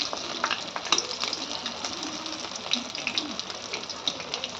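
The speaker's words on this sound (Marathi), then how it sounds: "आता याला छान आपल्याला लाल होईपर्यंत तळून घ्यायच्यात मस्त" Alu vadi, colocasia leaf rolls, sizzle in hot oil with a continuous crackling hiss and scattered sharp pops, heard close and moderately quiet.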